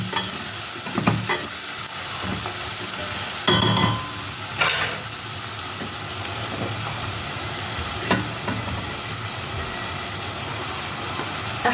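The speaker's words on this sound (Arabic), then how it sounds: "ننزل بالبصل المفروم، شوح كله مع بعضيه" Minced onion stir-fries with kofta in a pan, a continuous close sizzle broken by several scraping stirs of a utensil, with no talking.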